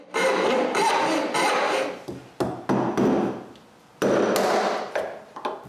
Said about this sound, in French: puis après, je coupe les contre-queues.